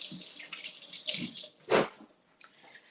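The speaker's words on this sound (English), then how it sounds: "So let me clean my hands." Hands are washed under a running kitchen tap while preparing a sugar-free yogurt cake, with water splashing and rushing close up in uneven bursts before the flow cuts off, and no talk.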